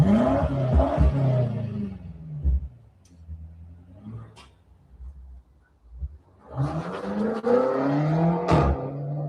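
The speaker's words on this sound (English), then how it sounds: "Driving out in a brand new M8" A BMW M8 engine revs hard, roaring up and dropping back, then surging again with a deep growl close by.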